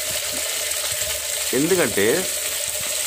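Potatoes and mushrooms shallow frying in a pan for an Indian aloo mushroom curry, a steady faint sizzle throughout with a spoken voice over it in the middle.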